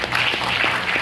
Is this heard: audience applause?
yes